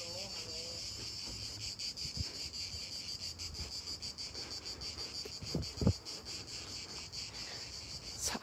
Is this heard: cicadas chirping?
yes